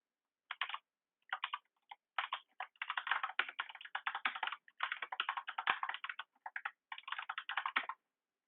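Close, crisp typing on a computer keyboard while writing an email, keystrokes arriving in uneven bursts and runs separated by brief pauses, alone in an otherwise silent room.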